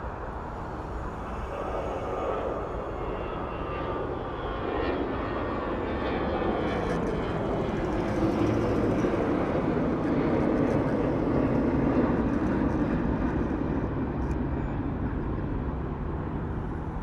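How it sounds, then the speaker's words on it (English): Jet airliner taking off at Toronto airport, a steady broad roar rising gradually in loudness and heard from a distance outdoors, continuous for the whole stretch without talk. "We got a takeoff here."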